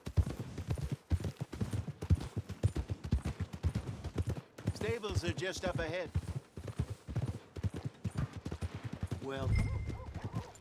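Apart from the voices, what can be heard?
horse hooves clip-clop, from a video game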